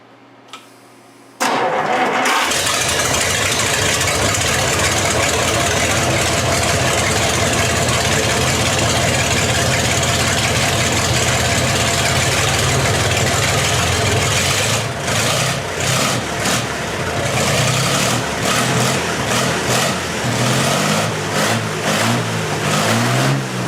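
A GMC V-12 engine cranks briefly, then fires up after a few squirts of starting fluid and settles into a loud, steady, rumbling idle with slight surging that continues close up for over twenty seconds.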